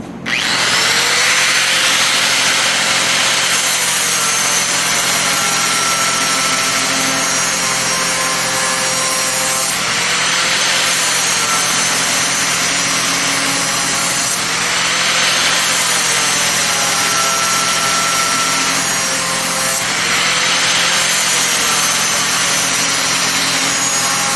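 A bench grinder sharpens a lawn mower blade, producing a loud continuous whine with rising and falling grinding passes as the blade is pressed and eased off.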